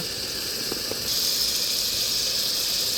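Chicken sizzles in a pan with turmeric powder while cooking chicken sukka, a steady loud hiss that grows brighter and stronger after a second, with a couple of faint clinks early on.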